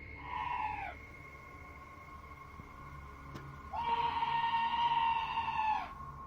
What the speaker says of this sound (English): this scream sounds like chills made audible